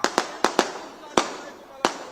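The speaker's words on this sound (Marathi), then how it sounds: "फटाके बंद करा फटाके" Loud, sharp firecracker bangs burst out one after another at a large outdoor political rally, at uneven intervals, some close together, with a hissing crackle lingering between them.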